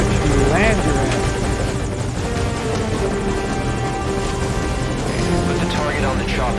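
A helicopter in the video game Metal Gear Solid V: Ground Zeroes gives a loud, steady rotor thump and engine whine that fills the whole stretch, with voices heard faintly under it.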